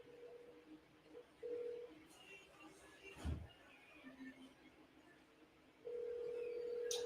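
A telephone call being placed, with a steady dial or ringback tone sounding in two stretches and a brief low thump between them, fairly quiet with no talk.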